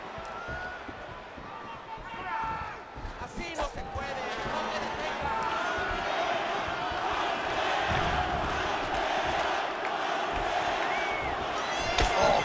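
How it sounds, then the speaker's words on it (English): Arena crowd at an MMA bout between Israel Adesanya and Yair Rodriguez reacts with swelling oohs and murmurs, a steady loud roar with sharp thuds and peaks as strikes land, with commentary voices running over it. "You hear this crowd just eating out of his hand, oohing and on every time he advances."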